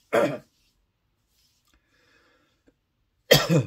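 Two harsh coughs, one at the start and one at the end, close and loud with near silence between them.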